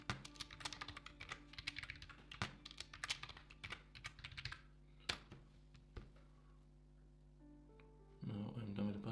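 Computer keyboard keys clatter in quick irregular bursts as a password is typed, close and fairly quiet, then pause before a short final flurry of taps.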